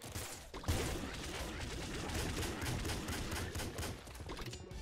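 Weapons fire continuously in the video game Nuclear Throne, a dense rattling volley of rapid shots that holds steady throughout at moderate loudness, with no speech.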